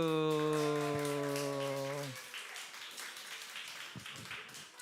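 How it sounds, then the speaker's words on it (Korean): A church congregation claps softly and steadily for a few seconds after a sustained held musical tone fades out. "박수."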